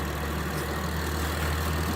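A 2004 Saturn SUV engine idles steadily at a low, constant rumble with a faint hiss on top, close by and unchanging, with no voices.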